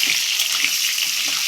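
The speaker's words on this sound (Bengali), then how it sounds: "আলুটা ভাজা হচ্ছে" Potatoes frying in oil in a home kitchen for chicken curry, a steady bright hiss held close and even from start to finish, with no voices.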